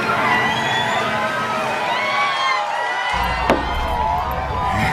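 Concert crowd at a show on a 2002 tour, a broad, sustained wash of cheering and shouting, moderately loud and continuous, with a low rumble entering partway through.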